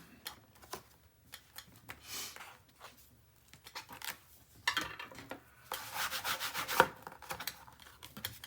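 Paper is burnished onto a mini album cover with scattered soft rubbing and scraping strokes, close and fairly quiet, building to a denser burst of friction near the end.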